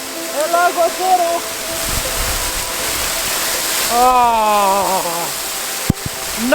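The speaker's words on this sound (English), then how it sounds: "Soaked by the waterfall here at El Aguacero." A steady, loud roar of falling water from the El Aguacero waterfall in Chiapas, Mexico fills the clip, with people's voices rising briefly over it.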